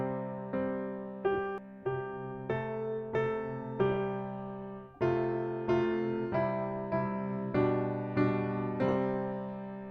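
Piano playing the left-hand part of Twinkle Twinkle, a steady run of about fourteen low and middle struck notes and chords, each ringing into the next, close and moderately soft with no speech.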